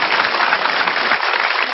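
Dense, steady applause from a small group during a relaxed chat with a band's guitarist, a continuous patter of clapping hands that stays even and fairly loud throughout, with no voices on top.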